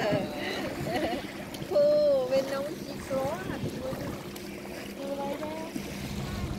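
A boat engine on cold Canadian ocean water, a low steady motor hum under wind noise and waves, with people talking over it throughout.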